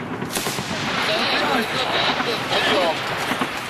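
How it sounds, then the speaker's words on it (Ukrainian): Gunfire in combat, attributed to a sniper, crackles in rapid bursts amid noisy movement, with shouted voices partly overlapping. "По пулеметному работает снайпер."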